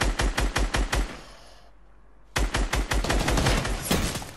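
Rapid automatic gunfire in an online video game shooter, steady bursts of loud shots, a brief pause, then another sustained run of shots, with no talk.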